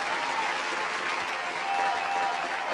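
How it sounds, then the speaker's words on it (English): A round of applause at the end of an interview: steady, dense clapping from several people, close and loud throughout the short stretch. "let me give you a round of applause"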